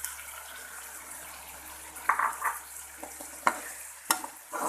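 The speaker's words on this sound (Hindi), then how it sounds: "अब हम इसमें टमाटर डालेंगे।" Tomato puree goes into frying masala for achari bhindi, giving a soft, close sizzle with a few scattered splats and stirring scrapes over a low background hum.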